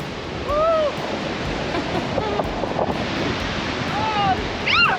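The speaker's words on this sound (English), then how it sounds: "The wind is so strong, I'm getting wet." Strong wind buffets the microphone beside a lake in Door County, Wisconsin, with waves surging and spraying water in a steady roar, while brief whistling tones rise above it.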